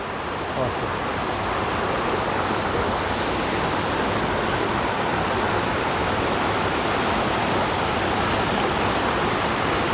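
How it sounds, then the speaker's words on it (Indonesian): Waterfall pouring steadily, a dense broadband roar of rushing water that stays constant and loud throughout, with no breaks or voices standing out. "Itu ada seperti air terjun ya mas Rais."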